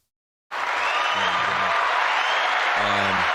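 Applause and crowd noise for a guest on an election-night podcast, a steady loud wash of clapping that starts abruptly after a moment of silence, with brief speech surfacing over it.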